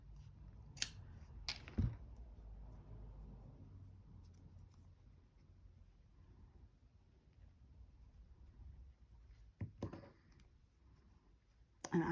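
Quiet, sparse snips of scissors cutting a piece of material in half, a few sharp isolated cuts separated by long near-silent pauses.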